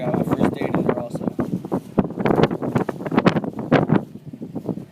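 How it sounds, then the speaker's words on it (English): Strong wind buffets a microphone outdoors at a fishing spot, rough gusty rumbling bursts that pulse irregularly throughout, close and loud. "Dang, the wind's getting stronger."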